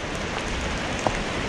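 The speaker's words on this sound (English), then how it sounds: "it's been raining here" Steady rain patters on the surroundings of a trek in the Parvati valley, a dense, even hiss with one brief drip standing out, moderately quiet and with no talk.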